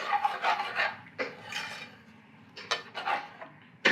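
A utensil stirs base gravy into restaurant-style garlic chicken in a pan, producing a series of short, close scraping and rasping strokes separated by brief pauses.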